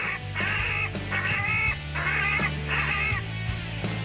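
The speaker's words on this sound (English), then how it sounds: "We now have a device for emitting the distress cries of birds, thanks to loudspeakers on the roof." Harsh, squawking bird distress cries repeat in bursts over a steady low hum, amplified and slightly distorted, played through rooftop loudspeakers to scare birds away from an airport.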